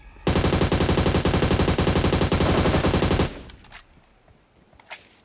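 Sustained automatic gunfire from a PUBG Mobile match, loud and close, a dense unbroken burst lasting about three seconds before cutting off to quieter ambient game noise with a faint later pop.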